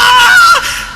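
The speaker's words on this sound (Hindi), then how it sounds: "इस बार अंकुर सच में चीखा" A man screams in a Hindi horror story drama: a single loud, close, high-pitched strained cry that holds for half a second, then drops and fades.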